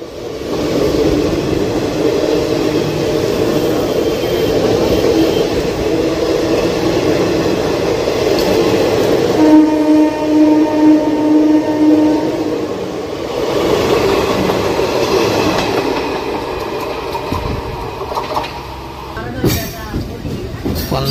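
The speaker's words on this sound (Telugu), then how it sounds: "డౌన్ నుంచి గుంటూరు వచ్చే ట్రైన్ మన ట్రైన్ వెనకాలే ఉంది." A train runs near Nallapadu junction heading towards Guntur, with a steady loud rolling rumble throughout and a sustained horn-like tone midway, while voices murmur faintly underneath.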